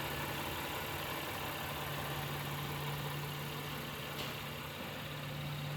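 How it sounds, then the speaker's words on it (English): A 2016 Acura MDX with a 3.5L engine idling at a dealership, a steady close low hum and whir that holds evenly throughout with no voices. "I'll get a little closer to the vehicle so that you can actually hear the vehicle running"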